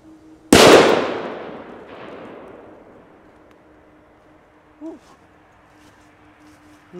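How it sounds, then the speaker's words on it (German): A Lupo P1 firecracker explodes outdoors with one sharp, loud bang that rolls off into a fading echo, followed by quiet ambience with a faint bird call. "Toll verarbeiteter Böller."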